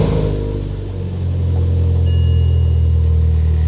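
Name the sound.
car engine starting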